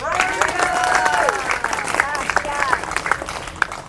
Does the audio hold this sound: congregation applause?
yes